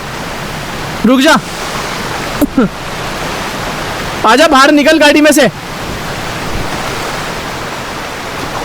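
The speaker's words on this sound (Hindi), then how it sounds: "ये देख रहे हो कितना तेज पानी है यहाँ पे" Rushing water in the video game GTA 5 pours as a steady broadband roar, with an off-road vehicle caught in the current, while voices speak over it in short bursts.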